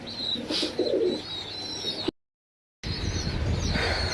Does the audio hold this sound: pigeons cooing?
yes